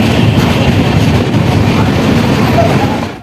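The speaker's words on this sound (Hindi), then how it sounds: "ट्रेन हमारी अराइवल हो रही है अभयपुर रेलवे स्टेशन पर।" Garib Rath Express arriving at Abhaipur railway station in Bihar, a steady loud rumble of wheels and carriages with clattering rail noise, heard from on board throughout, fading at the very end.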